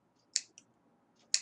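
Scissors snipping the fabric ends off a no-sew face mask: three short, crisp cuts close by, with a quick pair near the start and a final snip after a pause, over a quiet room.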